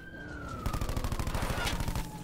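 Rapid automatic gunfire in Call of Duty Blackout, a tight burst of evenly spaced loud shots over a steady wailing siren-like tone, with no one speaking.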